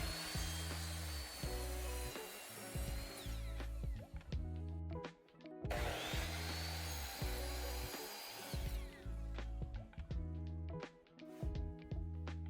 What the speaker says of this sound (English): I've got the saw plugged in, and get my hearing protection on, I can make my initial cut